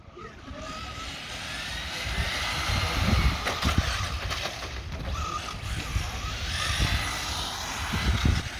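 Kyosho Fazer MK2 RC cars race around a parking lot, their electric motors producing a steady, continuous high whine that swells and fades as they pass, with no talking over it.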